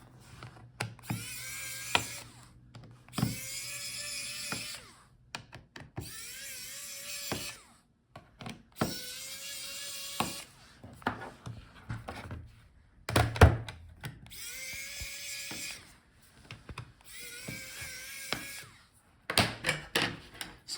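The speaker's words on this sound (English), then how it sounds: "So take out all the bottom screws." A small screwdriver backs the bottom screws out of a Lenovo ThinkPad X1 Carbon Gen 3 laptop that has a bad battery, giving repeated quiet ratcheting clicks and squeaky turns in short bursts, with light taps and thunks between them.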